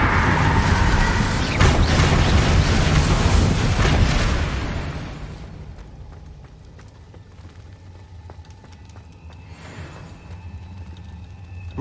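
Incendio fire spell from Hogwarts Legacy, a loud roaring crackle of flame that bursts out, rushes for a few seconds, fades into a quiet hiss, and then flares up again briefly near the end.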